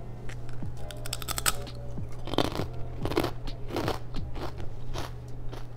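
Crispy Japanese snacks from 7-Eleven are bitten and chewed up close, with a burst of crackling crunches followed by a steady run of loud, rhythmic crunching chews and no talking.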